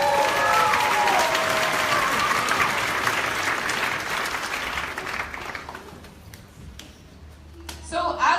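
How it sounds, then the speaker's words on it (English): A launch party crowd breaks into loud applause with a few cheers, dense clapping that gradually thins out and fades to scattered claps and quiet near the end. "so give yourselves a round of applause."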